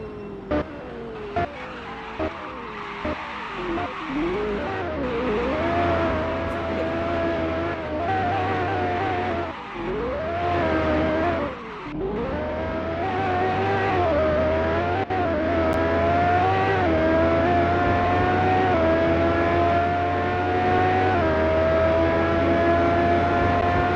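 Porsche Carrera GT engine in a Roblox racing game, loud sustained revving that rises and dips through gear changes, with brief tire squeals, no talk.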